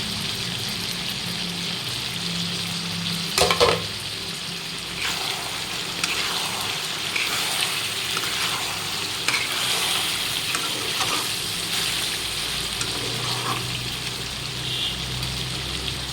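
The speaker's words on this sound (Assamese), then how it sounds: "এতিয়া দি দিওঁ ফ্ৰাই কৰি থোৱা আলুকেইডোখৰ।" Chicken cooked with curry leaves sizzles loudly in a pan as fried potato pieces are added and stirred, a constant close frying hiss broken by scraping stirs and a brief clatter.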